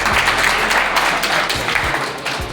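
Loud, dense applause from the audience at a Rajasthan teachers' union sub-branch annual convention and election meeting in Mavli, sustained and close throughout with no pause.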